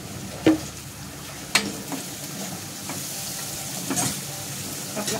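Onion fries in oil with a low, steady sizzle, interrupted by a few sharp clinks and scrapes of stirring, no one speaking.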